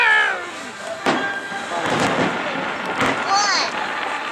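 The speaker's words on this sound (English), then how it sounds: "That's the biggest firework ever!" Fireworks burst during a July 2013 celebration at Big Bear, with a couple of sharp booms amid crackling and whistling, heard over excited voices and cheering throughout.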